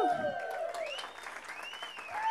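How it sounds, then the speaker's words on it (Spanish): Applause breaks out for Tati and Roger's vow renewal, a steady patter of clapping lasting a couple of seconds, with whistle-like tones and a voice rising over it. "Un aplauso"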